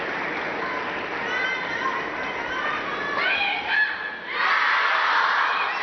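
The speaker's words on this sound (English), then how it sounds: "The crowd reminding Xinxiang where she is." Table tennis arena crowd noise at a WTT Xinxiang 2023 women's singles quarterfinal, with shouting and a swell of cheering midway, loud and close, sustained voices rising near the end.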